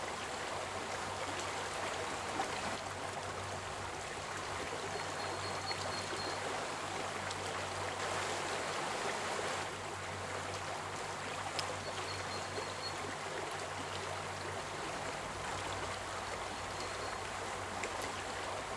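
Strong river current rushing steadily across a broad band, a continuous loud wash of water with a low hum running beneath for most of the stretch, no voices.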